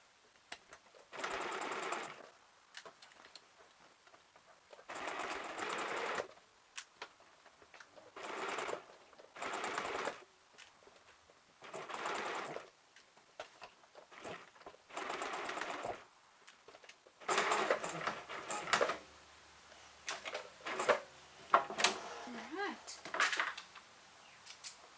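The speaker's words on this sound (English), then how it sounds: "we'll go back to the sewing machine" Sewing machine stitching around the top of a fabric bucket hat, running in repeated bursts of steady mechanical whirring separated by pauses, close and clear.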